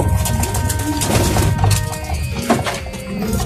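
Pigeons coo in a loft in San Ildefonso, Bulacan, several birds overlapping in soft, throaty calls close by, with wing flutters and a few knocks and bumps in the background.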